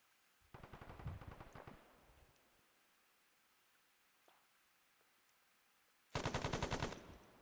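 Machine-gun fire in a military simulation game: two loud, rapid bursts, one near the start and one near the end, separated by a quiet stretch with faint scattered noises.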